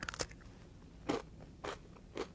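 A crunchy, sweet, tart snack bar like a firm rice crispy treat being bitten and chewed close up, a sharp crunch followed by three softer crunching chews spaced about half a second apart.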